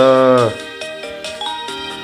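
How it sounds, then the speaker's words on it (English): A phone-call ringtone from the Pokemon Soul Silver video game plays as a short chiptune jingle, a sustained tone followed by several bright repeated blips, loud and alone. "we're talking about a phone call that Professor Elm had said"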